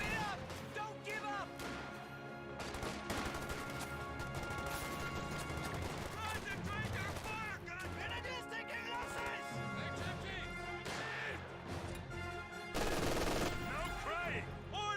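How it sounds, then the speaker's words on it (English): Gunfire and machine-gun bursts, including a .50 cal, ring out in a Company of Heroes 2 real-time strategy battle, crackling continuously under a dense, loud mix of game music and battle noise with a sharp flare-up near the end. "Now the 50 cal suppressing Jaeger Command Squad for the entered heavy cover."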